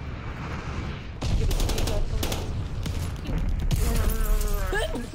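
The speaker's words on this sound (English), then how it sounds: "Enemy glide bomb coming in hot!" Enemy glide bomb strike in Call of Duty: Vanguard, heard as loud bursts of gunfire and explosive impacts in quick, dense succession, with a second heavy barrage rolling in near the end.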